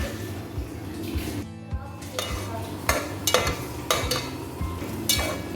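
Butter chicken mixture cooking in a pan, with a steady low sizzle and occasional stirring scrapes and clinks, heard up close with no talking.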